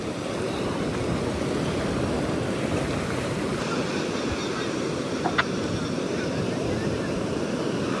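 Ocean waves surging onto an eastern Australian shore at rising tide, a continuous rough wash of surf with wind buffeting the microphone throughout.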